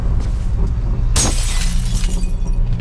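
Glass shatters in the video game Condemned, one sudden loud crash with tinkling shards trailing off over a low rumbling game ambience.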